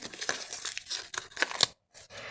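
Paper surprise packet being torn open by hand, a series of close, dry ripping and crinkling bursts over about two seconds, ending abruptly in a short silence before a few softer rustles.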